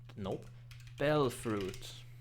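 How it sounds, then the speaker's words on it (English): A computer keyboard is typed on in soft, quick clicks beneath a person talking, in a quiet room with a low steady hum. "I'm gonna wackily control my mouse with my keyboard"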